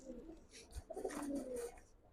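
Giribaz pigeons coo softly in a loft, a brief low throaty call rising and falling once, faint and close, with a light thump near the start and no speech.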